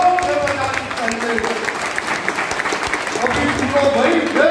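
A festival crowd applauding loudly, with dense sustained clapping throughout and a voice speaking over it through a sound system.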